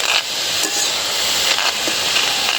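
Garlic frying in oil in a wok, a loud continuous hiss and sizzle with a few brief spatters, close and steady with no talking.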